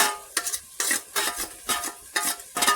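Oil goes into a pan of leeks and onions for a tomato meat sauce, and the pan sizzles under a steady, rhythmic scraping as the contents are stirred about twice a second, close up.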